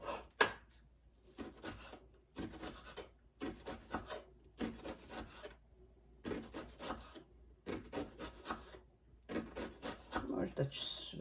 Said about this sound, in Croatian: ovdje imam pola glavčice luka. Onako nasitno da isjeckam.